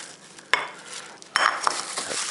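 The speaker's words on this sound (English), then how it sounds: "So this is how I would start them in the onion." Onion for Polish kotlety sizzles faintly in a frying pan while a utensil clinks and scrapes against it in a few sharp strikes and stirring sounds.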